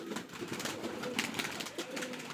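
A Rajshahi giribaj pigeon coos in a loft, soft repeated calls over a steady hiss of background noise, with no voices.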